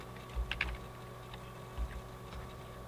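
Close computer keyboard typing as a username is entered to log in: a few quick clusters of soft key clicks separated by pauses, over a quiet room hum.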